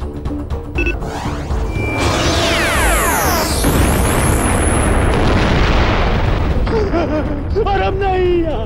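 A loud, sustained explosion effect in a Hindi superhero TV series, a long roaring blast with rumbling debris and whooshing sweeps, ending with tonal sci-fi tones.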